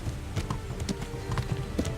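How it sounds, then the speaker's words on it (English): Horse hooves clopping steadily along a path while riding in the medieval open-world game Kingdom Come: Deliverance, a soft repeated clip-clop rhythm at moderate distance with no talk. "When riding, you can give your horse its head and it will stick to the path you're on"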